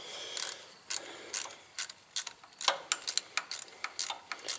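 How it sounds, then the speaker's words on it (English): A ratcheting box-end wrench turns a bolt on a tractor during radiator hose work, giving a series of close, crisp ratchet clicks in irregular bursts, fairly quiet and without talk. "I'll put this ratcheting box end in there and it'll be slicker than snot"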